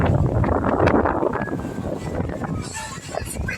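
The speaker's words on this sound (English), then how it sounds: "I just like the wind and the palm trees" Wind gusts steadily through palm trees in Central Florida, a continuous loud rushing with microphone buffeting and rustling fronds, close and unbroken throughout.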